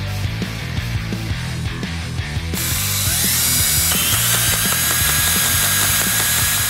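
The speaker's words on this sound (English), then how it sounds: "We're actually gonna do a little bit of kind of hillbilly machining on the inside of this case to get these cams to fit in" A cutting tool machines the inside of a Harley-Davidson Sportster engine case, with a rapid ratcheting, chattering rhythm that grows into a louder, denser grinding whine partway through, close and steady.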